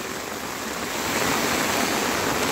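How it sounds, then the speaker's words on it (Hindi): Very heavy monsoon rain pours over a village while runoff streams everywhere, making a dense, loud, unbroken roar of rushing water. "बहुत ही खतरनाक भयंकर बारिश हो रही है फ्रेंड। और यहाँ देखिए झरने बन गए हर जगह"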